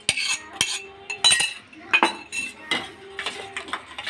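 A metal spoon scrapes spiced masala from a pan and stirs it into boondi raita, making sharp, irregular clinks and taps against the bowl, close and crisp with no voices.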